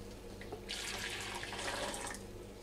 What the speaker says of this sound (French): on va le répartir dans les 4 saladiers